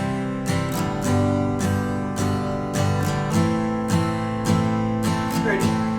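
Acoustic guitar strummed in an easy pattern, ringing open chords with regular down and up strokes and a few chord changes, played close and alone.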